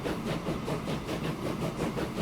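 A freight train rolls along in Transport Fever 2, giving a steady, dense rumble with faint rhythmic clatter that stays even and fairly loud throughout, with no talking.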